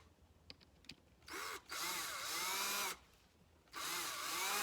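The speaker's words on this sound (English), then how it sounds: "I'm going to let the screw go in fresh." A power drill spins up twice to drive a screw into wood, each run a steady whine with a changing pitch, preceded by a few light taps and followed by a pause.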